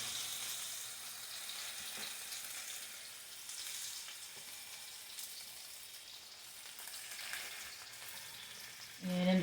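Food fries in olive oil in a pan for a low-carb meal, a faint, even sizzle that holds steady before a sharper, louder noise at the very end.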